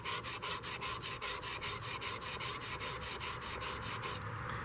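Steady rhythmic back-and-forth strokes of 120 grit sandpaper rubbing a workpiece to remove fine pitting, close and fairly quiet, about twenty even passes before stopping, with no talking.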